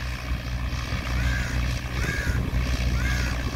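An ITM 285 tractor pulling a plough through a field, its engine giving a steady low droning rumble throughout, with faint voices in the background.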